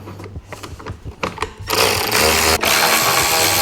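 Ratcheting clicks and mechanical whirring come from removing 8mm screws that hold car tail lights during a Mugen tail light install, starting as choppy bursts and then settling into a steady, loud, close-up grinding whir with no talk.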